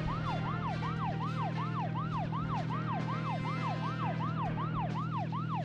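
A vehicle siren in the video game Deadly Premonition Origins wails in a fast, regular up-and-down sweep, about a dozen even cycles over a steady engine drone, loud and alone.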